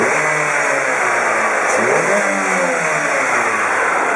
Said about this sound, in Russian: На оборотах работает красиво